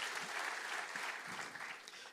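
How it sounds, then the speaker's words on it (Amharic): A church congregation applauds, a dense, continuous clapping from many hands filling the room at a steady level. "እስቲ ለራሳችሁ አጨብጭቡ።"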